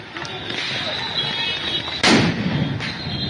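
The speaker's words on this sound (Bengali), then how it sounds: "আবারও একের পর এক সাউন্ড গ্রেনেড ছোড়া হচ্ছে" Sound grenades burst during night-time street unrest at Dhanmondi 32 in Dhaka, one sharp loud blast cutting through a dense roar of crowd noise and shouting, with a fainter second thud following.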